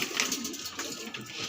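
Madrasi pigeons in a pigeon dealer's loft coo close by, with soft, short throaty calls and light rustling, a few birds overlapping over a brief stretch.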